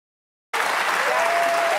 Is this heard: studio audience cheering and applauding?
yes